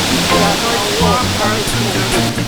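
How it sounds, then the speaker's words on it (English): Waterfall at Blue Hole, Jamaica, a continuous broadband rush of falling water under a person's speaking voice for a couple of seconds. "experience this majestic, beautiful, scenic waterfall"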